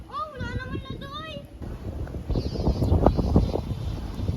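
Strong wind gusting against the microphone outdoors during a test flight, rising into a loud, roaring rush in the second half, with children's voices and a whistling tone early on.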